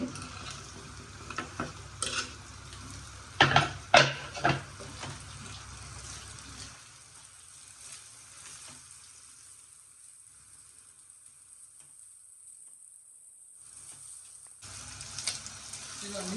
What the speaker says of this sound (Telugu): ఇప్పుడైతే ఉల్లిపాయలు వేసుకుందాం రొయ్యలు వేగిపోయి